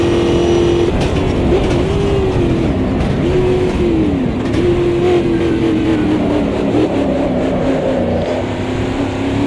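Loud, continuous engine note from an Audi 90 Quattro GTO race car in Automobilista 2, pitch rising and dipping repeatedly as the throttle is worked while riding the brakes, close and dominant with no speech.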